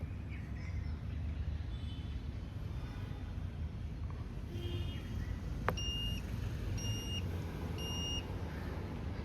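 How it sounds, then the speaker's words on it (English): Three evenly spaced high electronic beeps from the powered tailgate of a Mahindra electric SUV confirming a custom opening height, clear over a steady background hum, with a sharp click just before. "Now you heard those 3 beeps."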